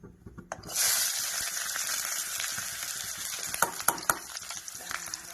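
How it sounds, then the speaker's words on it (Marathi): Onion, green chili and garlic drop into hot mustard oil and burst into a loud, close, continuous sizzle, with a few clicks and stirring knocks over the frying hiss. "मस्त गरम झालेलं आहे आता मी टाकते त्यात कांदा हिरवी मिरची लसण"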